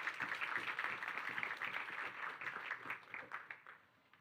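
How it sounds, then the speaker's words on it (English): Conference attendees at a EuroDIG 2024 wrap-up session applaud a speaker, a soft, fairly distant patter of clapping that thins and fades out over about four seconds. "Big applause for Ricardo."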